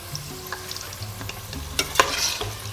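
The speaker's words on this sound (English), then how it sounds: "The whole reason we deep fry the potatoes is to remove the moisture from them" Potatoes deep frying in hot oil for a Spanish omelette give a close, steady sizzle with scattered pops, followed by a few brief scraping clatters as they are lifted and handled.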